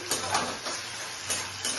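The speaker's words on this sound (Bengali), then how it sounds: "টমেটো আদা পেস্ট দিয়ে দিচ্ছি" Tomato and ginger paste sizzling in a hot pan for a dhaba-style paneer curry, with a steady frying hiss and a few soft stirring scrapes.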